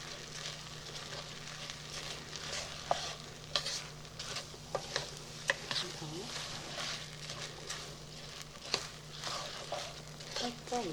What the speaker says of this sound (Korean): 이게 야채밥이라서 살짝 볶아줍니다.